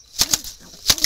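A wild jalali pigeon flaps its wings in two close, loud bursts of sharp whooshing beats, each burst made of a quick pair of flaps with a short pause between.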